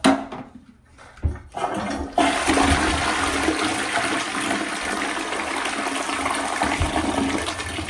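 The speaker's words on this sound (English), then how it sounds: "so I'm just going to go ahead and flush" Household toilet flushing after bowl cleaning: a short gurgle and click, then a loud, steady rush of swirling water sustained for several seconds, close up with no speech.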